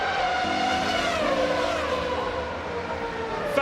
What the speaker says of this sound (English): Across the line he goes, and Kimi Raikkonen wins!